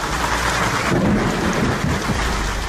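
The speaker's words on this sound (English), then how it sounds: "the latest storm fronts have seen hail hammering down the northern suburbs and northern beaches" A storm front over Sydney's northern suburbs brings hail and rain pelting down hard and close, with a deep rumble of thunder rolling beneath the dense downpour. No voices are heard.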